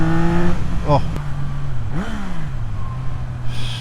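A 2024 Yamaha MT-09 triple-cylinder naked motorcycle revs hard with a deep, bellowing engine note that rises and falls steadily throughout, heard up close while a rider speaks briefly.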